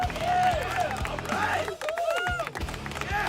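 A canned applause and cheering crowd effect plays during a late-night live stream, a continuous burst of clapping with a voice and other sound effects layered over it.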